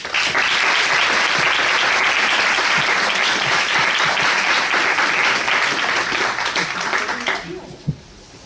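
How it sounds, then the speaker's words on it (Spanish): A conference audience applauds Senator Juan Carlos Romero Hicks with sustained loud clapping that fades out near the end, followed by a brief thump. "Le brindamos un aplauso"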